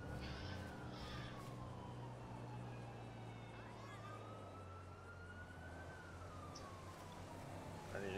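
An ambulance siren in the GTA V police mod LSPDFR, a wailing tone rising and falling steadily over a low engine hum, fairly close and continuous, with no speech heard.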